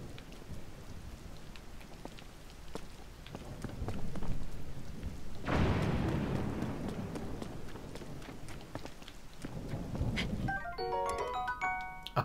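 Steady rain hisses throughout a thunderstorm in the video game Tears of the Kingdom, with a rumbling thunder roll swelling in the middle; near the end a bright plinking musical jingle sounds over the rain.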